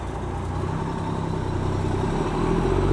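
An old dump truck's diesel engine runs with a deep, steady throbbing rumble close by, building slightly louder near the end, with no voices.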